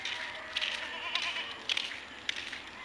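Goats on a farm in Pampanga bleat repeatedly, several short cries rising over a steady outdoor background with no talk.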